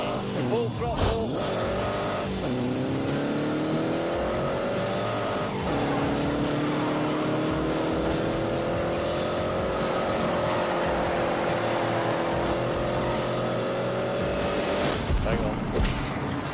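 A racing car's engine revs hard at full throttle, its rising pitch climbing through the gears, and tires squeal during a game based on The Grand Tour. People talk over the engine at times.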